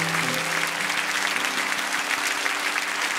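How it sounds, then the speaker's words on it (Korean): A church congregation applauding during a Sunday service, a thick, continuous wave of clapping from many people that stays loud and even throughout, with a faint steady tone beneath it. "우리 다시 한 번 더 큰 박수로 격려해 드리기 원합니다."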